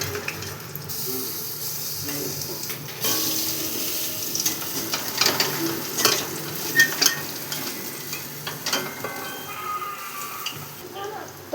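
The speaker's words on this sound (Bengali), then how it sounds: "বুড়াটা বানাচ্ছি চানা ডালের বুড়া, যেহেতু তেল বেশি খাওয়া যাবে না" Chana dal fritters (bora) frying in oil in a home kitchen, a steady sizzle with stirring and scraping clatter and a few sharper knocks throughout.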